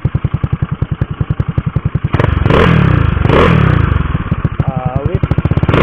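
A Yamaha Mio 180cc motorcycle idles with a steady low pulsing, then its aftermarket exhaust revs hard twice in loud bursts before settling back to a rapid, throbbing idle.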